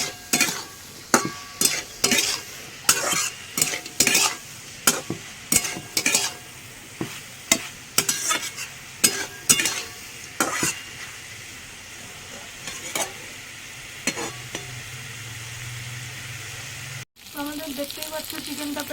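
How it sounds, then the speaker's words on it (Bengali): A spoon scrapes rhythmically around a frying pan as Kashmiri chili powder and spices are stirred into potol (pointed gourd) chicken. Sharp stirring strokes repeat over a soft sizzle, then thin out to a quieter simmer. "এবার ভালো করে নাড়িয়ে চালিয়ে দেবো"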